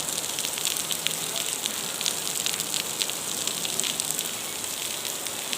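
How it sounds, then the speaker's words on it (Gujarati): Heavy cyclone rain falls steadily on open farm fields, a dense, even hiss with constant patter and no pauses, moderately loud and close throughout, with no speech over it. "ખેતરમાં ફૂલ વરસાદના કારણે પોણી પોણી થઈ ગયા છે"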